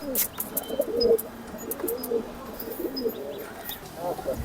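Soft, low pigeon coos repeat in short rolling phrases at a pigeon farm, with faint chirps and background rustle around them.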